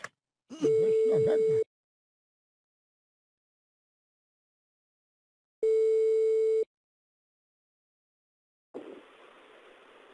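Telephone ringback tone on an outgoing prank call: two long steady tone bursts separated by several seconds of silence, followed by a burst of hissy line noise as the call connects.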